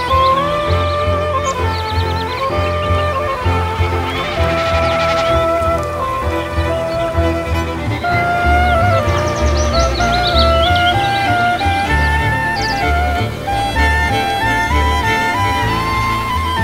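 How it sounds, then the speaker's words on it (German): A common snipe makes its bleating drumming sound in flight over Polish marshes, amid bird calls and chirps in a busy outdoor soundscape, with warbling songs layered and repeating throughout, fairly close and loud. "Ein lautes Meckern. Was für ein Ton und was für ein Vogel."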